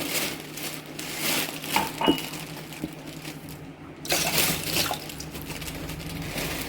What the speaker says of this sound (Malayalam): ഞാനൊരു പാത്രത്തിലേക്ക് രണ്ട് ഗ്ലാസ് വെള്ളം ഒഴിച്ച് കൊടുക്കുന്നുണ്ട്